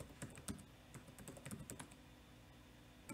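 Quick, irregular bursts of typing on a computer keyboard, with light clicky keystrokes close by and fairly quiet, with short pauses between runs.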